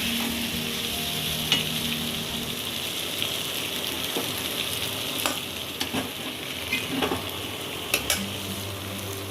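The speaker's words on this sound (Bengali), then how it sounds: "আমার এঁচোড়টা ভালোভাবে কষিয়ে নেওয়া হয়ে গেছে" Chopped jackfruit sizzles in a hot pan while it is stirred. Crackling frying runs throughout, broken by occasional sharp scrapes and clicks of the utensil, with no voices.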